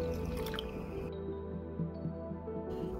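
Water is poured into a bowl of flour mixed with baking soda and salt for homemade ramen and udon dough, giving soft wet drips and squishy splashes close by, with no talking.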